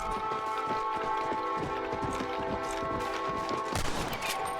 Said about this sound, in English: Oh, wasn't trying to shoot 2 shots.